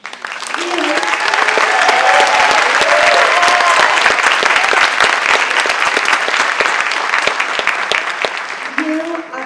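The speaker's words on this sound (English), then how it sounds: "please give our students another well-deserved round of applause" Loud, sustained applause from the audience at an adult education graduation ceremony for the class of 2025, dense steady clapping that holds for the full stretch, with a voice briefly speaking over it.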